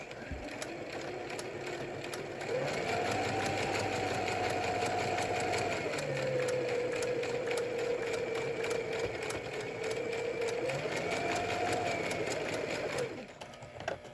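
A sewing machine runs continuously, stitching the seam of a cloth face mask in a fast, steady buzzing whir, with a short pause at the start and a brief change in pitch midway as it slows and resumes.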